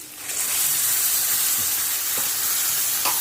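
Tomato puree with salt and garam masala fries in a pan of oil, a steady close sizzle and hiss with a few soft stirring scrapes, continuous and alone with no talk.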